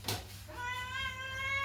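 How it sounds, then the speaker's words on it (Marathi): A cat meowing for milk gives one drawn-out, rising meow after a brief soft knock, faint and alone with no talking. "स्वीटी माझी मांजर आहे."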